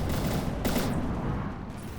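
Dense, continuous weapon fire in the naval combat game From the Depths, a loud rolling barrage with a sharper blast partway through that keeps roaring without pause.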